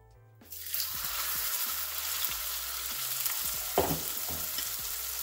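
Salmon sizzles steadily in avocado oil in a preheated skillet, a loud, continuous crackling spit that starts abruptly after a brief quiet moment, with a single sharper clank partway through.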